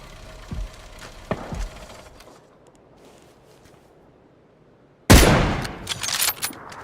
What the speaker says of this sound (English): So obviously the sounds of the gunshots are attracting his attention.